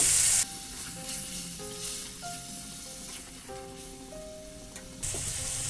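Water from the spice bowl hits hot masala in a pan for Bengali baingan bharta, bursting into a loud sizzle that settles into a steady bubbling hiss with soft stirring, then flares up again near the end.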